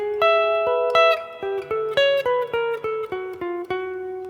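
Clean electric guitar picks a quick run of single notes, one measure of a solo, played at a lesson pace with clear plucked attacks and no voice over it.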